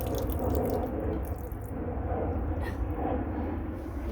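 Excess water drains from wet potting soil squeezed by hand outdoors, giving soft splashing, dripping and trickling that comes and goes in small bursts. It is heard close and fairly quiet with no talking.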